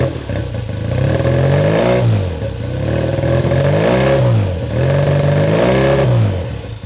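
A 1968 Triumph T100T Daytona 500cc motorcycle engine, not yet warmed up, running loud and close near the exhaust, its pitch rising and falling in repeated revs over a rough, uneven idle.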